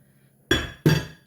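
Carrot cake batter being mixed in a bowl with baking soda going in, giving two sharp, bright clinks of a utensil against the bowl, close and fairly loud, in an otherwise quiet kitchen.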